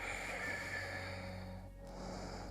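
A single long, steady exhaled breath during a yoga core exercise, close and breathy, continuing for a couple of seconds with a brief dip before resuming.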